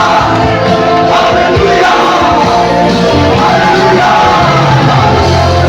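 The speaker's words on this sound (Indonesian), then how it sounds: "Kamu berikan tepuk tangan yang paling meriah buat Tuhan Yesus." A church congregation cheers and claps loudly for Jesus during a sermon, with dense continuous shouting, whooping and applause filling the room while a voice calls out over it.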